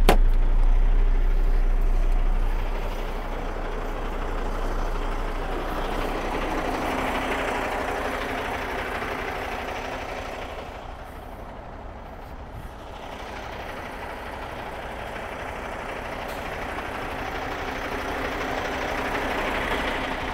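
A 2020 Kenworth T800 cab-chassis truck with an UltraShift transmission runs nearby, its diesel engine giving a steady low rumble and broad hum that dips slightly midway before holding constant, with no talk.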